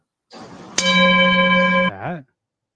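A single church bell strikes once with a sharp attack and rings out in a bright, sustained tone before cutting off, close and loud, followed by a brief wavering tail.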